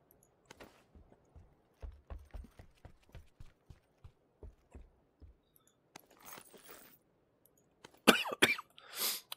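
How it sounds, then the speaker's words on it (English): A person coughs repeatedly with short, dry bursts in an uneven rhythm, close to the microphone and fairly quiet, ending in a few louder, harsher hacking coughs. "You and your coughing."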